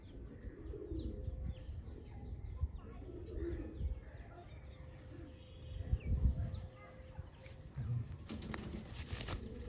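Pigeons kept by a breeder cooing softly nearby, low repeated coos with occasional chirps and light rustling, fairly faint and without clear talk.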